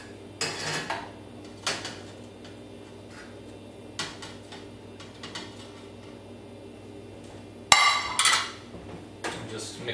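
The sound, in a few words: gnocchi being mixed into sauce in a pan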